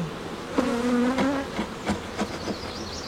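Honeybees buzz around opened beehive frames during an inspection, a steady insect hum with one sustained drone passing close by, then fainter scattered buzzing and a few soft knocks.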